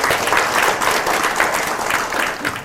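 A book-concert audience applauds to welcome a former party secretary-general onto the stage, a steady, dense wash of clapping filling the hall without a break.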